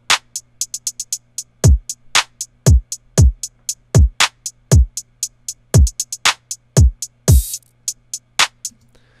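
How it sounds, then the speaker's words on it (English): Programmed hip-hop drum beat with deep kick drums sliding down in pitch, snappy claps and crisp hi-hats, including an open hi-hat on the first beat, playing in a steady rhythmic pattern, loud and clean with no voices. "So all of the drums combined together sound like this"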